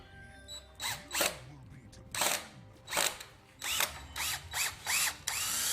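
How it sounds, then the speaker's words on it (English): A DeWalt DCD985 premium hammer drill driver running at 3-speed with hammer mode still engaged, loud and close in a series of about seven short revving bursts separated by brief pauses. "the DCD 985 now, premium hammer drill driver"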